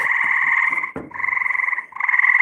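Frogs at the edge of a backyard pool croak very loudly in long pulsing trills, close by and nearly continuous, broken by two brief pauses, with no talking.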